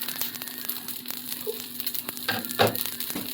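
Dosa batter sizzles in oil on a hot griddle while tomato dosa cooks, a steady faint crackle with a few sharper spatters toward the end, no voices.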